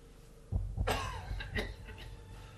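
A man gives a couple of short, moderately faint coughs in close succession in a quiet room, followed by a softer trailing breath.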